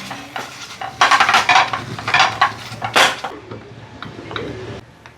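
Roasted brinjal being mashed for Surti baingan bharta: a run of clattering, knocking strikes of a utensil against a pan or bowl, moderately loud and uneven, with short pauses between hits.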